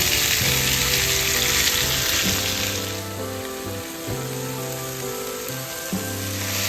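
Ginger, garlic, green chili and red onions sautéing with spices for a karela dish, a strong, hissing sizzle close up with regular scraping stir strokes every second or so.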